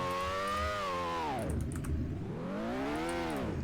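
A Porsche Cayman in a Roblox game idles with a deep, buzzy exhaust note that swells and dips twice, steady and close, with no talking.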